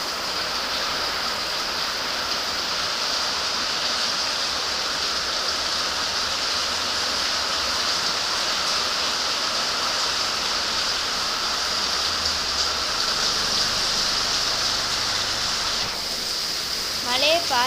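Steady rain falls outdoors as a constant hiss of drops, loud and unbroken throughout, with a faint voice briefly near the end.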